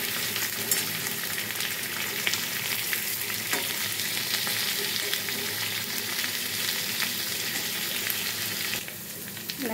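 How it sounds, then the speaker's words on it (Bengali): Pointed gourd pieces fry in hot oil with a steady, close crackling sizzle and occasional stirring scrapes, continuous throughout and easing slightly near the end, with no voices. "দেখো পটলগুলো ভাজা হচ্ছে"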